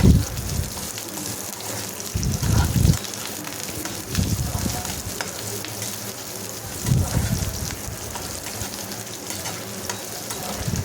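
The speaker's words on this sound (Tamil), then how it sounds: "வெங்காயம் போட்டுட்டு பூண்டு கூடையே மீடியம் ஃப்ளேம்லேயே வச்சுட்டு நல்லா ஃப்ரை பண்ணி விட்டுக்கோங்க" Onion and garlic fry in a pan over a medium flame for garlic chutney, with a steady sizzle and intermittent scraping stirs in the foreground.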